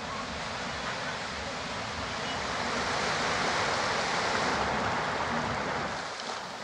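A waterfall visited from stairs at different heights in Bali or Java, Indonesia, its rushing water a dense, steady roar that fills the scene at a constant loud level.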